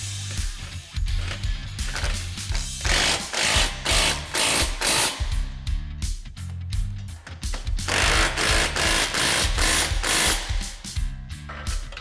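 Bolts being tightened with a ratchet while a SuperATV rear bumper is mounted on a Polaris RZR Pro R, giving loud, close, continuous rapid clicking and mechanical whirring with brief pauses between runs.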